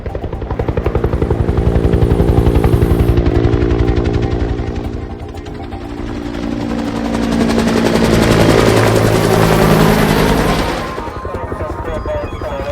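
A helicopter hovers close and loud, its rotor thumping in a dense rapid chop that swells, dips around the middle, then surges again over steady engine roar, with no voices.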